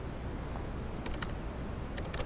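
A file name being typed on a computer keyboard: a quick, uneven run of light key clicks in small clusters, close and fairly quiet, with no talking.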